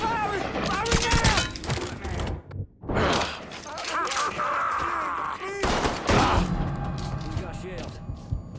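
Gunfire in the video game Mafia 3: bursts of loud, close shots and rapid volleys crack through the scene, with tense voices talking over the shooting.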